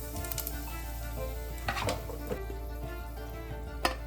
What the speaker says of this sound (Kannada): 1 ನಿಮಿಷದ ಕಾಲ ಇದನ್ನು ಫ್ರೈ ಮಾಡ್ಕೊಳ್ಳೋಣ.